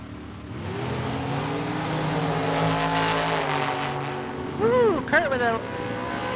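At a drag strip, a dragster and a 1972 Chevrolet Nova idle and build revs together, then launch with a loud, rising engine roar and quick gear changes, the sound swelling before settling into a sustained drone.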